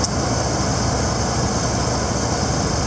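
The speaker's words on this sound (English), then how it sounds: "This is a V8 gasoline engine," A 5.2 liter V8 gasoline engine in a Dodge 2500 van idles close by, a loud steady rumble with an even, unchanging drone throughout.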